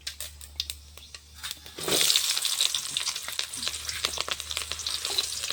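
Mustard seeds splutter in hot cooking oil in a home kitchen. After a quiet start, a loud burst of dense popping and crackling sizzle breaks out and continues steadily.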